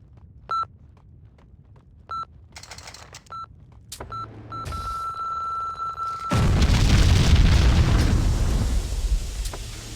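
A bomb going off in the video game Max Payne: a few game beeps and ringing tones, then a loud, heavy blast that rumbles and roars on for several seconds.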